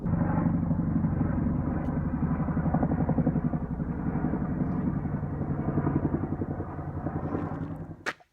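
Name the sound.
Chinook helicopter flying over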